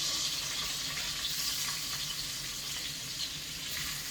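Green peppers sautéing in a pan over cooking coals outdoors on a farm, giving off a steady, close hiss and sizzle that holds level throughout without talk.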